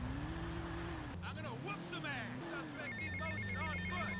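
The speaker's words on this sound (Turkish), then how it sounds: "Telefon çalıyor" A phone rings inside GTA Vice City with a repeated electronic trill, set against a steady low engine drone from the game and a voice talking over it.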